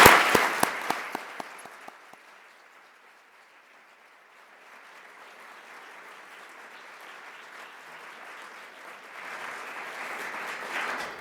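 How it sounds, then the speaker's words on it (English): An audience at an Economic Club of Canada event applauds an advocate, opening with a few sharp, evenly spaced claps, then a soft, distant patter that builds again toward the end. "Ladies and gentlemen, please join me in giving her a round of applause."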